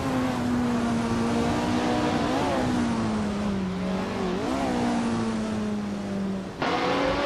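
A Lotus 49 race car in a racing video game holds a loud, steady engine drone with small pitch dips and rises through corners, then a sudden shift in tone near the end.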